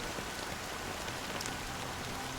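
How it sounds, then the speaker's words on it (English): Steady rain falls and patters on surfaces, a dense even hiss with no pauses, moderately quiet and heard alone. "still raining"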